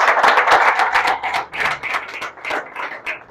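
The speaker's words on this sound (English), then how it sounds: "Give Dan a round of applause" Audience clapping for a speaker at a small real estate meetup, a modest group of distinct hand claps with uneven rhythm, fairly close and continuous.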